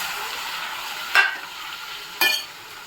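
Tomatoes being stirred in a hot frying pan, a continuous close sizzle broken by two sharp scraping strokes of the spoon against the pan, about a second apart.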